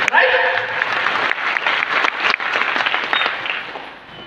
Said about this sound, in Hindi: तो सबसे पहले आप अपने लिए एक जोरदार ताली बजा सकते हैं।